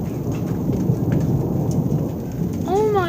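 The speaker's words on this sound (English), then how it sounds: "This hail is insane." Heavy rain and hail pounding down during a thunderstorm, a dense, loud, steady roar of impacts with low rumbling beneath, continuous throughout, ending with a rising and falling whine.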